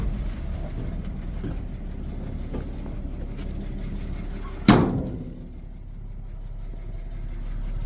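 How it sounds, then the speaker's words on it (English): An old car idling outdoors with a newly fitted exhaust system, a low steady rumble throughout, broken midway by a sharp thump like a door closing. "I'll take you outside and show you the exhaust before I turn it off."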